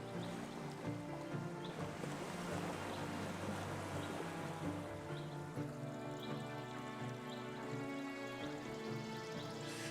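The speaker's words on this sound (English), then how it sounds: "Crab fishermen's boats sway in the harbor, while sea lions crowd the piers" Soft, steady wash of water with a low hum in the background, occasional faint knocks and creaks as crab fishing boats move gently at a harbor on the Oregon coast.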